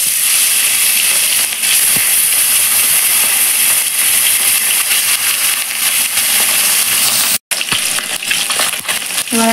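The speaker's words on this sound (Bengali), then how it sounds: "এবার আমি কেটে রাখা কাতলা মাছগুলো দিয়ে দিচ্ছি।" Pieces of salted, turmeric-rubbed katla fish frying in hot mustard oil, giving a steady, bright, close sizzling hiss that runs almost unbroken with a momentary gap near the end, no talking.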